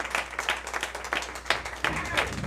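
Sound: audience applause welcoming a singer

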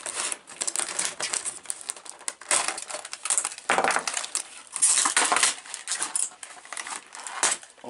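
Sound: unwrapping plastic packaging of a Bismarck model kit

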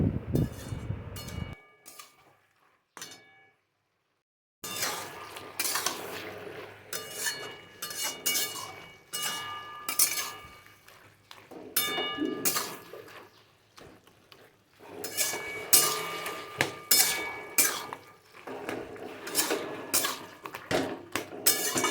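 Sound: stirring fish and spices in a cooking pan

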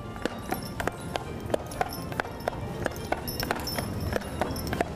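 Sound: draft horses walking, hooves on Disneyland Main Street

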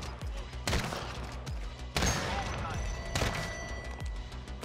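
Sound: sniper rifle shots in a video game

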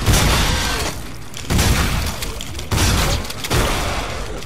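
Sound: gunshot in video game The Callisto Protocol

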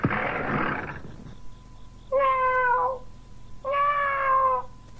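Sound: man imitating a cat's meow in the garden

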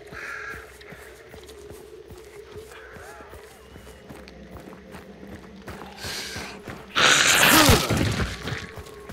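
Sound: crows cawing in the video game Hunt: Showdown

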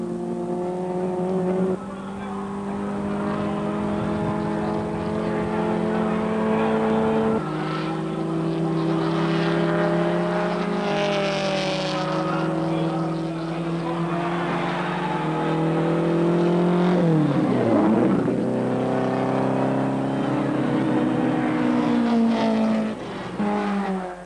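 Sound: 1960s race cars lapping the circuit at Sandown

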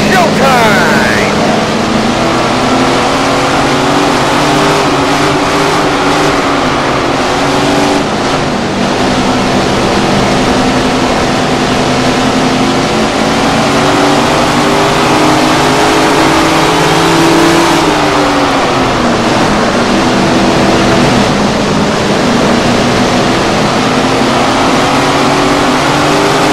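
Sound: sprint car engines revving at race start in a racing video game

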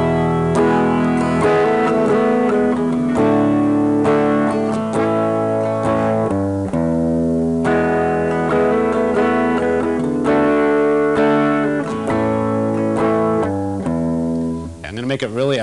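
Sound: electric guitar chord progression

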